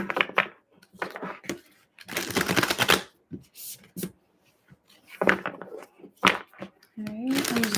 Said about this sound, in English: I'm just gonna shuffle a few more times